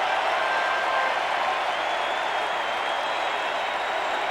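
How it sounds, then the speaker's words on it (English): A packed baseball crowd at the 1991 World Series Game 7 between the Braves and Twins applauds long and loud, a dense continuous roar of clapping heard from a distance with no voices over it. "they applauded long and loud last night for this fella, and they're doing it again"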